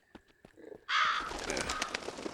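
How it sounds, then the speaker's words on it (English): Video-game birds caw in a harsh burst after a few soft clicks, then the bird calls trail on over a dense, close wash of sound. "Oh, there's some birds."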